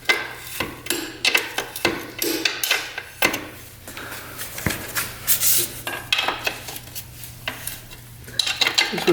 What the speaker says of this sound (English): we need to loosen up these bolts here